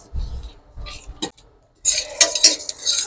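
Metal spoon scraping and clinking in a pan while spices are dry-roasted for amla pickle, a few sparse scrapes, a pause, then a louder burst of rapid stirring and clatter.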